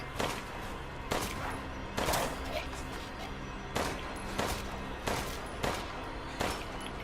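Gunfire from the video game Resident Evil Village: sharp shots fired in quick bursts and single cracks at irregular intervals, loud and close over a constant game background.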